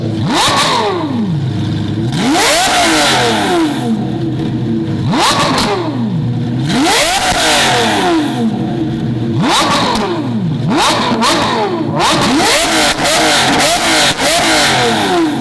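A supercar engine revs repeatedly, rising and falling in sharp bursts about every two seconds, loud and close, with the tone climbing on each rev.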